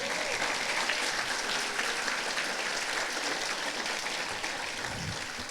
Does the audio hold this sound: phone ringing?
no